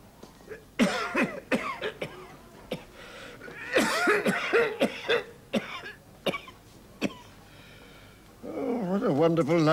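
A smoker coughs repeatedly in sharp, rough bursts, clearing his throat between fits, with a short stretch of spoken voice at the end.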